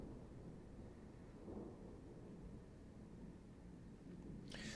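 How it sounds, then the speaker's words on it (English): Deep thunder rumbling indoors, a steady low roar that swells midway and continues throughout, strong enough to shake the floor, with a brief sharp noise near the end. "Y'all hear that thunder?"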